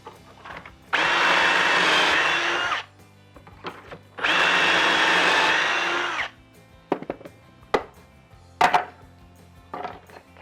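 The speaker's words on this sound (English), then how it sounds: "and we're ready to drill again." A power drill bores pocket holes with a Kreg 300 Series pocket hole jig, giving two long, loud, steady whirring bursts of roughly two seconds each, followed by scattered clicks and knocks as the workpiece and clamp are handled.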